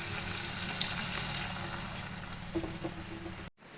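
Water poured into a pan of frying desi chicken curry, a rushing, hissing splash over steady sizzle that fades before a brief cutoff near the end.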